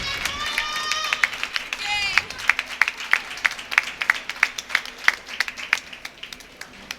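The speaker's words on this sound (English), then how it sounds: "As the Scranton fans in front of me applaud their team" Scranton fans at a college hockey semifinal applaud their team with loose, sparse individual claps spread through the rink, heard behind a commentator speaking.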